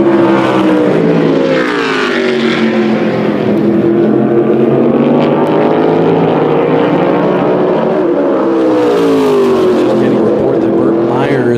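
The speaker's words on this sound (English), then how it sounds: "Might have some problems with his engine after that qualifying run." A modified race car engine roars steadily and loudly during a qualifying run at South Boston Speedway, its pitch sweeping up and down as it passes.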